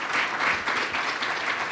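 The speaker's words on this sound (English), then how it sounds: "I really want you to give a round of applause." An audience at an engineering research program's annual meeting applauds a student, steady dense clapping from a hall full of people, moderately loud and continuous throughout the short stretch.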